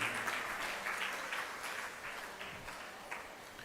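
Applause from an audience at a Hindi religious discourse, a steady broadband patter of many hands that gradually fades, with no talk over it.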